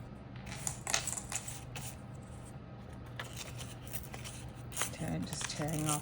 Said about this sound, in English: Just tearing off those edges. So I have a nice little random tear going on.